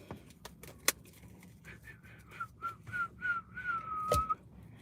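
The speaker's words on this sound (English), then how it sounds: "I can whistle now." A person whistles a short wavering tune, faint and close, broken up by a few sharp clicks and knocks.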